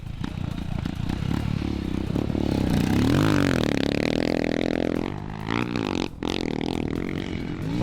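A heavy Royal Enfield motocross bike tears along the sand at the Weston Beach Race, its engine roaring loud and close, swelling through the turns and easing briefly off the throttle before pulling hard again.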